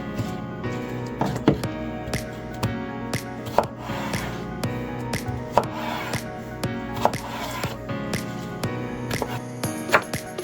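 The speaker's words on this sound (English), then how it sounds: "I'm going to slice the cucumber." A knife slices through cucumber on a cutting board for a summer salad, with steady, rapid thunks and taps close by, one short pause partway through, and no voices.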